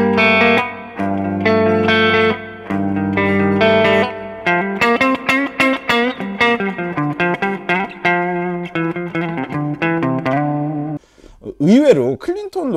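A clean-tone electric guitar is played through a Mesa Boogie Mini Rectifier amp with reverb added. It plays chords and then quicker single-note runs, loud and close, with a wobbling sustained tail at the end.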